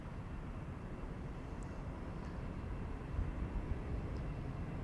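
Airliner taking off at Amsterdam Schiphol Airport, heard as a steady, broadband engine roar that swells slightly toward the end, continuous and moderately distant, with no voices.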